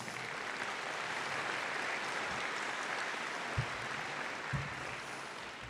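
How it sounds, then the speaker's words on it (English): Sustained, dense applause from a large audience at a college commencement ceremony, a steady wash of clapping for the board of trustees with a couple of louder thumps near the end. "Let's give them a round of applause."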